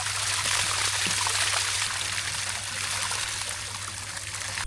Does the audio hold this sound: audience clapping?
no